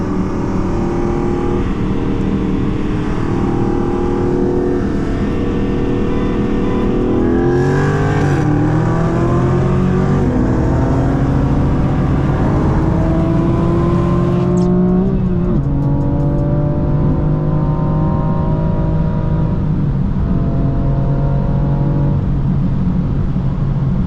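A BMW M4 F82 with a six-speed manual and a Dodge Challenger Scatpack accelerating hard in a roll race, the engine note climbing steadily through gear shifts with loud, continuous roar heard from inside the car.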